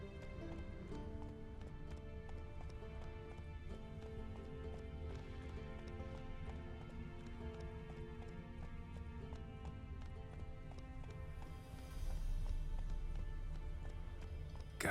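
Roach, the horse in The Witcher 3, galloping in a steady rhythmic clip-clop of hooves beneath a constant layer of game music, with a brief swell of wind or movement near the end.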